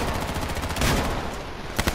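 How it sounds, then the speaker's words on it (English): Rapid gunfire from the H1Z1 battle royale game fills the clip, a dense rattle of repeated shots with a few louder cracks near the end, no voices. "we're getting shot from somewhere"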